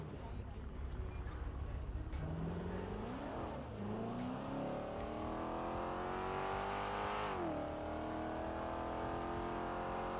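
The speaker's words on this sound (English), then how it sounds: "there's a million fucking cars here." Cars passing in a video game, engines rising and falling in pitch as they sweep by over a constant dense roar of traffic.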